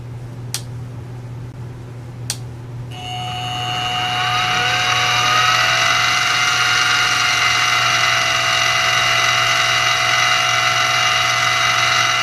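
A mini X2 milling machine starting up after two sharp clicks, its motor rising to a steady, loud whine with a constant high tone that runs on evenly at close range, with no talking.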